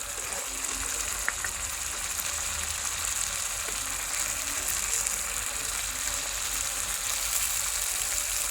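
Meat frying in a small pot over a small stove, a steady loud sizzle and crackle with occasional pops that runs continuously throughout.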